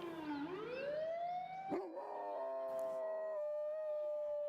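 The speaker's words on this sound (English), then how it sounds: "dogs will do that. They will try and match the sound of a siren." A dog's long, sliding howl rises and holds a steady tone, matching a wailing siren; a second, quieter howl continues beneath.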